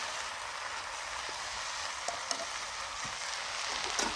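Prawns frying in a pan for a prawn dish, a bright, even sizzle running throughout with a few small crackles and utensil taps near the end, close and without talk.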